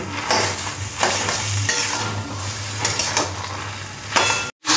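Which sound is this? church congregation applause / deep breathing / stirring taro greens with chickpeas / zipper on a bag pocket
stirring taro greens with chickpeas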